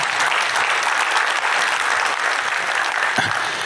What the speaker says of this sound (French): applaudir bien chaleureusement nos experts et nos spécialistes ce soir